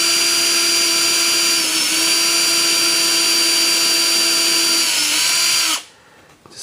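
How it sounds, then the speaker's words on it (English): A power drill whines loudly and steadily at close range as it drills into a wooden board, bogging slightly once, then cuts off near the end. "now I can drill in till I meet the tape"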